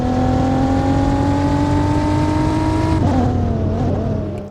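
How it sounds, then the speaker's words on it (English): Lotus Evora engine in a Roblox driving game, a steady loud droning hum at constant revs that shifts pitch and wavers near the end. "the car I suggest grabbing is probably the Lotus Evora. Like, not only does it sound pretty decent,"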